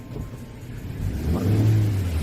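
A manual car pulls away uphill after the clutch is released, its mid-pitched engine rising in a near, steady rev as the throttle opens and building louder toward the end.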